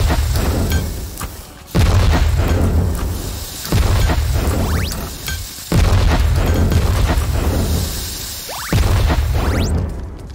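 Bombs explode one after another in the Bit Hotel video game, with loud, heavy booms about every two seconds, each followed by a rumbling decay.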